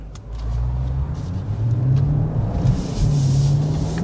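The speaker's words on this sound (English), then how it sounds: "we will be getting a hard acceleration first and foremost" A 2025 BMW M5 Touring pulling hard: a deep engine note swells and climbs steadily in pitch for several seconds, a loud, close rumble with no talking.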